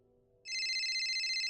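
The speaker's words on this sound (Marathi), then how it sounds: "कोणाचा फोन आहे?" A phone ringtone starts abruptly after a quiet moment and keeps ringing loudly in a bright, continuous electronic trill.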